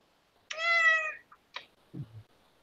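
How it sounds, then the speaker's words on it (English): A cat gives a drawn-out, tonal meow, then a short chirp and a brief low grumble, all close and clear against near silence. "cat cries."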